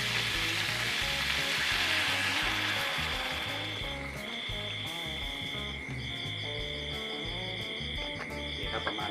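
Pork belly sizzles and crackles as it is stir-fried in a pan for a Thai jungle curry, a constant close frying hiss with rhythmic scraping of a spatula against the pan.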